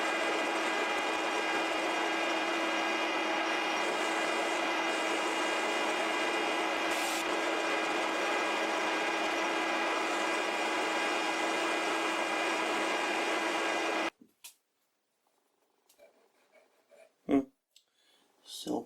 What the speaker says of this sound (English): I'm getting ready to start cutting the taper.